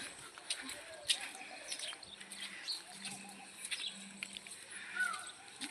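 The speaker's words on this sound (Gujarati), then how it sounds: "કબૂતર નથી હોલી છે હોલી" A dove calls in soft, low repeated coos, faint and somewhat distant, set against a wet outdoor market ambience with scattered chirps and light background noise after rain.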